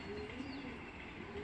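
A female Egbert pigeon gives a soft, low coo, faint and steady against a quiet indoor background.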